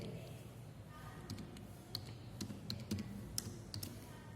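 Keystrokes on a computer keyboard in a short, uneven run of soft clicks at close range, with quiet background hiss and no talking.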